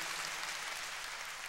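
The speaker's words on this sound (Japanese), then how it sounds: "大きな拍手でよろしく。" A concert audience applauds for a band, a steady dense wash of clapping heard from a distance, faint and even throughout.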